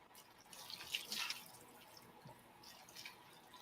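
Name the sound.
water being poured into cereal and almond milk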